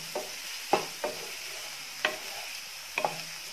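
Onions fry in a pan over full flame, a faint steady sizzle broken by a handful of light spatula knocks and scrapes spaced irregularly, close and with no talk.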